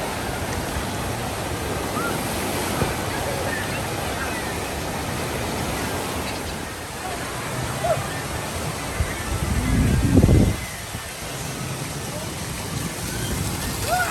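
The lazy river at Soak City water park, Kings Island, heard as a constant wash of flowing water and ambient park noise, with a brief louder low splash or rumble near the end.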